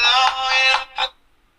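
A phone ringtone plays a bright electronic melody of several tonal notes, a sustained phrase followed by a short final beep, clear and close.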